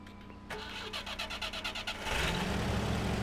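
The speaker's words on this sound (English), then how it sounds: "Start the engine, take off the parking brake, put it in first gear" A truck engine in Spintires: MudRunner cranks with a rapid rhythmic starter chug for about a second and a half, then catches and settles into a steady, louder low rumble of idling.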